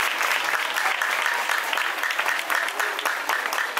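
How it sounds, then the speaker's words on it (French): Audience applause at a flag-handover ceremony of a classical training school, loud, dense clapping from a sizable crowd, sustained evenly with no pauses. "c'est pourquoi je vous demande d'applaudir chaudement"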